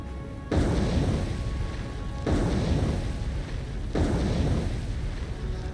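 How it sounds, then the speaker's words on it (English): Three heavy torpedo explosions strike a ship in the naval warfare game War on the Sea, each a deep booming blast with a long rumbling tail, spaced roughly every two seconds. "Six torpedoes hit."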